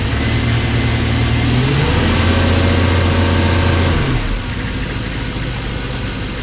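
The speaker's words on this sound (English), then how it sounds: "I'm going to rev this up for a second, and then the rattle will become very pronounced" A car engine with a suspected timing chain rattle revs up, holding a raised steady drone for a few seconds before dropping back to idle, loud and close with a continuous mechanical buzz and no talking.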